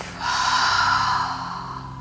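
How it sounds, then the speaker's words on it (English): A slow yoga breath, drawn in through the nose and let out through the mouth, as a long, soft, airy exhale heard close up with no speech. "Breathing in through the nose, breathing out through the mouth."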